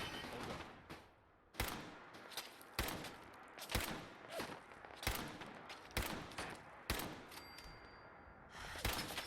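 Video game gunfire, double-damage sneak attack shots: a steady series of sharp, loud shots about one per second over a dense, noisy background, with no talk.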